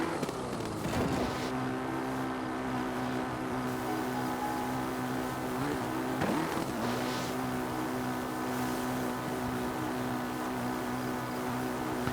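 A motorcycle engine in Breath of the Wild drones steadily throughout, with a continuous loud hum and small pitch shifts as it revs, heard alone with no voices.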